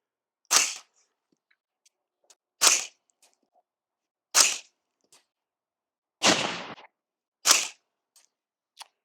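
Five subsonic .30 caliber rifle shots fired through a 3D printed suppressor outdoors, each a sharp suppressed crack spaced a couple of seconds apart, fairly close and clear against quiet surroundings.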